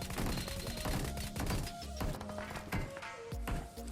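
Gunfire in a BGMI (Battlegrounds Mobile India) squad match, played on a Poco F1 phone: rapid, sharp shots and bursts repeat throughout, mixed with other game sounds at a steady, fairly loud level.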